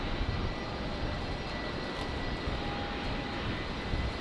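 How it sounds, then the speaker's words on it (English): A Qantas Link airliner inbound from Newcastle landing on runway 19 left at Brisbane Airport, heard as a steady, moderately distant engine roar that holds an even level throughout, with no voices. "So Qantas Link 1886 here, coming in from Newcastle on 19 left"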